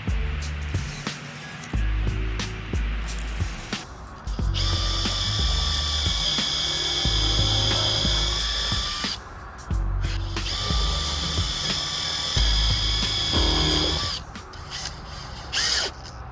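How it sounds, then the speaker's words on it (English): Power drill boring into a wooden jig, with two long bursts of loud whining, ratcheting drilling separated by short pauses and clunks of handling. "Okay, drilling"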